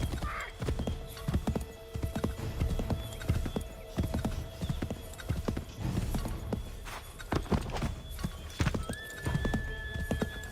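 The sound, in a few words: horse galloping in Assassin's Creed 3 video game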